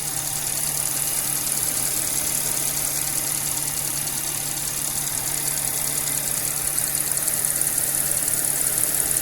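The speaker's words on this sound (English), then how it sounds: "not sure about that ticking sound" An Audi B8 S4 engine idles steadily with a fast, faint ticking from the supercharger running through the hum, continuous and close, with no voices.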